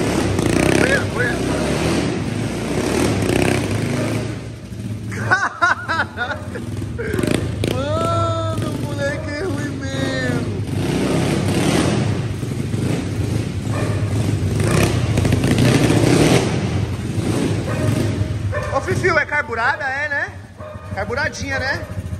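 A motorcycle engine revs hard as the bike drifts, ridden by an 11-year-old boy. The loud, rising and falling engine drone runs throughout while people shout and chatter over it.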